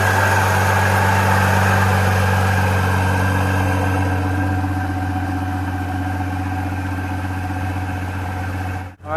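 A car engine idles smoothly and steadily after a misfire fix, a continuous low rumble heard close by with no stumbling, cutting off abruptly at the very end.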